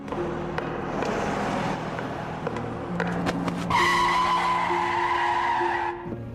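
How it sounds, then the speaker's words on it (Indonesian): A car skids with a long, loud tire squeal rising over engine noise and a few sharp knocks, ending abruptly, with no one speaking. "di saat itu mobil yang ditumpangi oleh Ceya sedang melintasi jalan itu dan hampir menabrak dirinya."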